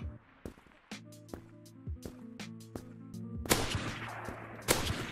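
Submachine gun fire in the Krunker.io game on the Newtown map, a string of sharp rapid shots in irregular bursts, growing denser and louder toward the end.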